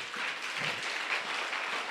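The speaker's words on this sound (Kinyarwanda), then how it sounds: "amashyi menshi ku mwami yesu" A church congregation applauding during a sermon, a dense, even wash of clapping from many hands, steady throughout, with no pauses.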